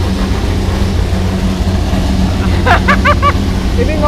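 Car engine at Rifat Sungkar's workshop, a loud low rumble running throughout with a burst of sharp rising revs near the end, close and dominating the space.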